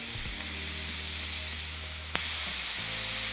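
Carne asada meat hits a hot oiled skillet over high heat and sizzles loudly in a continuous, dense hiss with a brief sharp clack partway through.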